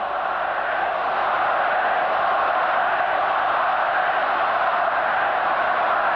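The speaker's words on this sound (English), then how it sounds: "And listen to the crowd. Wally, they're singing." Big Queensland stadium crowd at a 1984 State of Origin rugby league match, a loud, steady massed roar of voices singing and chanting together without a break.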